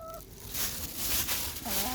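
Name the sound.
chickens clucking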